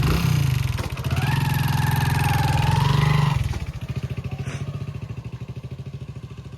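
A motorcycle engine runs close by, holding a steady, loud drone for about three seconds before dropping into a lumpy, pulsing idle.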